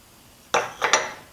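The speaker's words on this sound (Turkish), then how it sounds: "tüm bu kuru malzemeleri ilk önce karıştırıyoruz." Dry crepe ingredients of flour, instant yeast, salt and sugar are stirred in a bowl, heard as three quick, close clinks and scrapes of a utensil against the bowl in about a second, with no talk.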